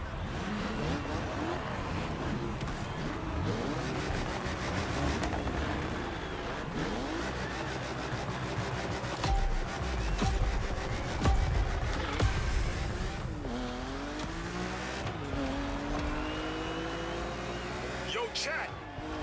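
Car engine revving with rising and falling pitch as gears shift, plus tire squeal, in The Crew Motorfest racing game; loud and continuous throughout, with game music and effects in the mix.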